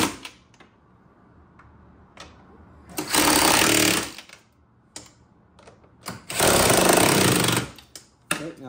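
Quarter-inch impact wrench tightening bolts on a Sea-Doo jet pump, two loud sustained rattling hammering bursts of about a second each, close, separated by quieter handling clicks.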